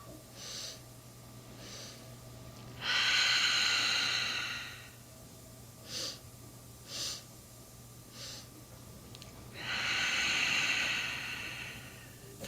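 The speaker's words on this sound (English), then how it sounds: "you're not breathing out in between each of those 3 sniffs" Quick nasal inhalations in sets of three short sniffs during a mindfulness breathing exercise, close and soft, alternating with longer drawn breaths through the nose over a steady low hum in a quiet room.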